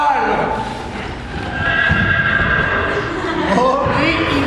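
A horse whinnies loudly and its hooves clip-clop nearby, while voices are heard over the animal sounds.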